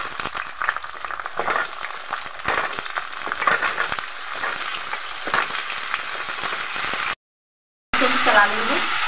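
Potatoes tumble into a pan of browned onions for saloni, setting off a steady, lively sizzle with scattered clatters of stirring, followed by a brief silence and then quieter frying.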